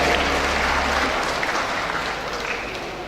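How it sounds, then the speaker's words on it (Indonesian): A seated audience at a high school graduation ceremony applauds loudly, a dense, continuous wash of clapping that stays strong and slowly tapers slightly over a few seconds. "Silakan tepuk tangan Bapak Ibu sekalian"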